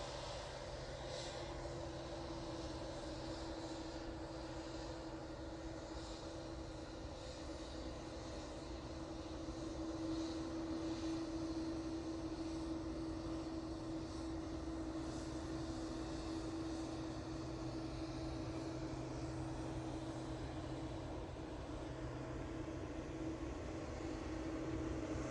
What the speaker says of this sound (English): TUI Dreamliner now coming down at Victor Bravo.